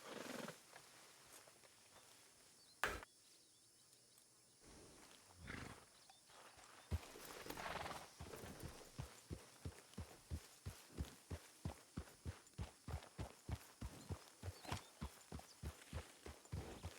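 Horse hooves clip-clop in a steady, even rhythm in the WildRP Red Dead role-play game, starting faintly and growing into loud, regular strikes that carry on without talk.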